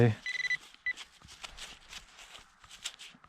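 A metal detector sweeping a farm field gives a high-pitched tone near the start, a thin steady beep repeated briefly, followed by faint rustling and scraping of handling in the field.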